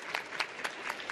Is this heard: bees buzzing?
no